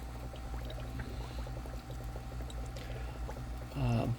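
Water being poured into a glass holding lucky bamboo, a soft steady trickle under low background hum that swells into a louder gurgling splash near the end.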